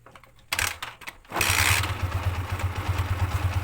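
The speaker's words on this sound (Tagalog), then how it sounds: "so ngayon start na natin yung motor natin" A motorcycle engine cranks briefly, pauses, then catches on a second attempt and settles into a steady, close idle with a rhythmic low putter, no talking.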